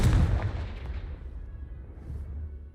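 A Confringo explosive spell in Hogwarts Legacy goes off with a loud, deep blast right at the start, then rumbles and fades into a low roar, with a fainter second burst near the end.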